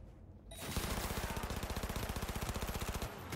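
Rapid automatic gunfire from a heavy-recoil weapon in Cyberpunk 2077, a fast steady burst of loud shots lasting about two and a half seconds, beginning abruptly after a quiet moment.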